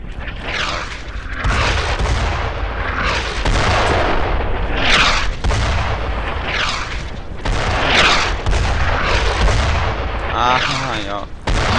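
Rapid, loud WWII gunfire and explosive booms from the video game Brothers in Arms: Road to Hill 30, dense repeated shots filling the whole stretch with little letup.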